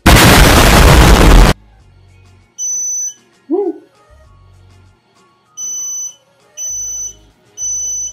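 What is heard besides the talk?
Creality Falcon 2 laser engraver beeping after firmware update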